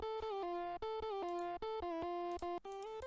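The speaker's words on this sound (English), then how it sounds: "After that I added again some more distortion," A heavily distorted euphoric hardstyle synth lead plays a choppy, stepping melody of short buzzy notes, loud and alone with no voices.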